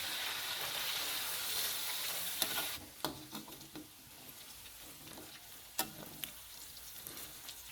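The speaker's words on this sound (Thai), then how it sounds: "คนไปเรื่อยๆครับสีหมูก็จะเริ่มเปลี่ยนไปเรื่อยๆเลยเห็นไหมครับ" Pork belly frying in oil in a pan for fish-sauce fried pork, steady sizzle that drops quieter partway, with sharp scrape and clack transients from stirring throughout.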